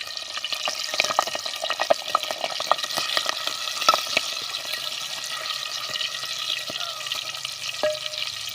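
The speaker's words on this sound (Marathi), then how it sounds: "चार पाच मिरच्या घेतलेल्या आहेत, मध्ये चीर देऊन घेतलेल्या आहेत, त्या तळून घेऊया." Slit green chillies frying in hot oil, a steady soft sizzle with scattered crisp pops and crackles throughout, close and moderately loud, with no talking.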